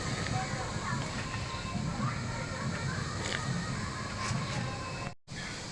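A pot of salted water rolls at a vigorous boil before rice flour dough is mixed in, giving a constant bubbling hiss and slosh that cuts out briefly near the end.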